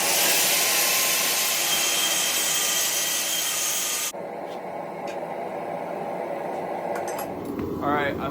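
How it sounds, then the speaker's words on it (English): An angle grinder cuts a forged steel holdfast down to size, a loud, steady, hissing whine that runs continuously, drops in pitch partway through as the cut changes, and winds down near the end. "I'm gonna have to cut this with the angle grinder kind of down to size"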